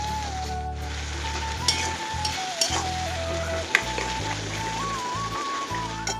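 Sliced onion sizzling in hot oil with a bay leaf and tomato, a steady loud frying hiss with occasional stirring clicks and scrapes throughout.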